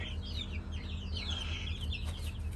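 Several chickens in a coop cluck and chirp in quick, overlapping calls over a steady low background hum, fairly close and continuous, with no talk.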